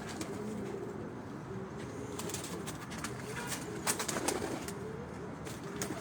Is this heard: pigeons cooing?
yes